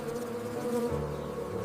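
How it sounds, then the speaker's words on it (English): Honey bees fanning their wings on the combs inside a hive make a steady, close droning buzz with shifting layered tones, no voices present. "Hundreds of workers line the combs and beat their wings, generating airflow that pulls moisture from the open cells for hours"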